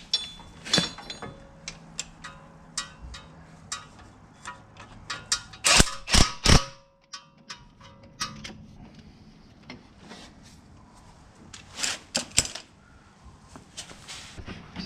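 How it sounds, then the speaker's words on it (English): Hand ratchet tightening driveshaft bolts at the hub of a VW Golf 5 GTI, a series of sharp metallic clicks and knocks in bursts, loudest around the middle, alone without talk. "I'm going to go round again with my ratchets and make sure that I'm happy with them"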